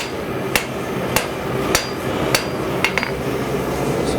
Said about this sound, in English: I hit the anvil.